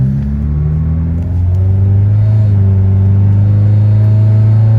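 Inside a moving 1994 Saturn SL2 Twin Cam, the engine drones loudly and close, with a low rumble and a whirring tone that rises and settles as the car pulls along, and no voices.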